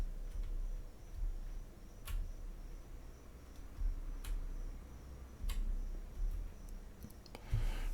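Keyboard arrow keys click while moving a PTZ camera image, a few sharp, isolated taps spaced a second or two apart over a quiet low hum.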